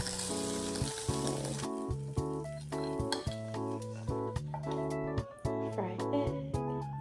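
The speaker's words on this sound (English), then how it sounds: "Fried egg." An egg fries in a pan, crackling and sizzling steadily throughout, with occasional clinks of utensils against the cookware.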